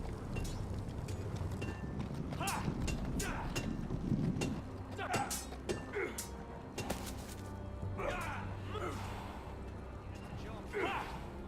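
Horse hooves clip-clop beneath steady outdoor ambience and intermittent voices in a Game of Thrones video game scene, with a rider arriving on horseback at a northern fortress; the hoofbeats are moderate and irregular, partly masked by talk.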